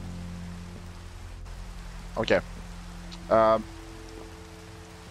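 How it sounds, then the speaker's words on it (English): Rain in the video game Minecraft: steady soft hiss of falling rain throughout, with a person speaking briefly over it. "Because I want the rain to stop."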